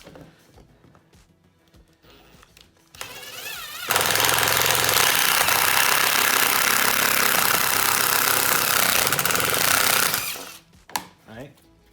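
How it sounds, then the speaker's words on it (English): A power drill with a step bit cuts a hole up to 3/4 inch in a Polaris Indy EVO 550 snowmobile part. It gives a loud, continuous grinding roar of about six seconds, with quieter handling noises before and after. "we're gonna switch over to our step bit, and basically this diameter right here is 3/4"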